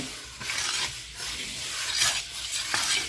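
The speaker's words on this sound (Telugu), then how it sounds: "ఇది బాగా ఫ్రై చేయాలి ముందు ఎర్రగా వేగేదాకా మినపప్పును బాగా ఫ్రై చేసుకున్న తర్వాత" Urad dal frying in a pan until reddish, with continuous sizzling and repeated stirring scrapes from a spoon against the pan, close and fairly loud.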